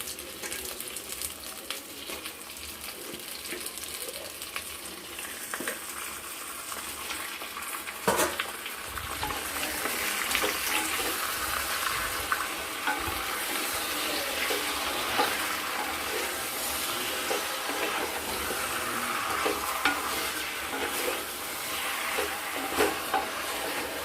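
Chicken pieces frying with lightly browned onions in a clay wok, a steady broad sizzle with scraping and clinking of a spatula stirring throughout, close and continuous with no talk.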